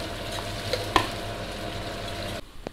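Garlic, ginger, potato and onion fry in hot oil for a Punjabi curry pakoda tadka, giving a steady close sizzle with a brief clatter of stirring near the middle and a quieter tail at the end.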